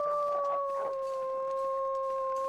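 A wolf howls in the survival video game The Long Dark, a sustained, steady tone that holds its pitch for the whole stretch, clear and moderately loud with no talking over it.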